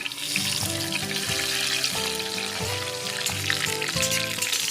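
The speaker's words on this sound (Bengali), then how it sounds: "তেলটা গরম হলে তাতে ফোড়নের মশলাগুলো দিয়ে দেব" Steady crackling sizzle of whole spices frying in hot mustard oil, continuous and close, with a melodic music track playing over it.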